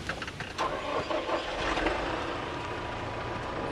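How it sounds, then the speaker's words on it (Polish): A farm tractor's engine cranks and catches near the microphone, then settles into a steady mid-pitched idle on its own. "Zapalamy ciągnik w takim razie."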